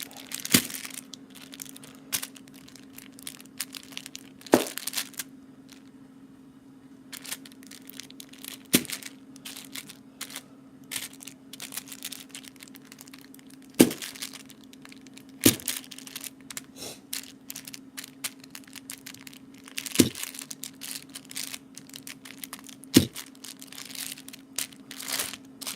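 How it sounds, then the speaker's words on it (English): A knife chops a candle into pieces, with sharp, crunchy cuts landing irregularly against a board, some bursts of rapid crumbly chopping between louder single strikes, close and clear. "cut it in fours, and then just chop it up"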